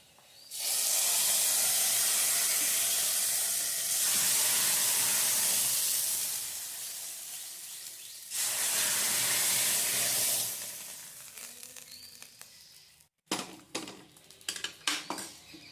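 A hot fried mixture with rice goes into a curry pot and bursts into a loud steam hiss and sizzle in two long waves, then dies down into fainter crackling and the clink of a utensil.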